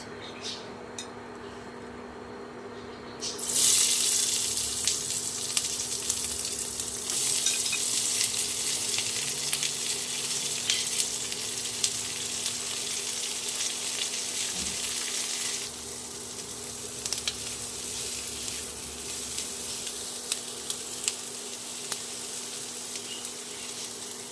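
Sliced onion dropped into hot oil already crackling with nigella seeds and dry red chili, flaring into a loud, steady sizzle near the mic that carries on for the rest of the clip with scattered spits and stirring scrapes.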